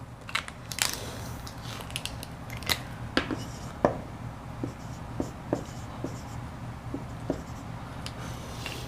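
Chalk or a marker writes on a board during a maths lesson, making a sequence of short, sharp strokes and taps at an irregular pace over a low background hum, with no talking.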